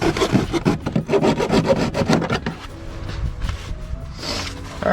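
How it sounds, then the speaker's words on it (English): Handsaw cutting through the plastic fender of a Dodge Dakota pickup being trimmed for 35-inch tires, a fast run of rasping back-and-forth strokes that slows and softens toward the end. "I'm just gonna finish it with the handsaw."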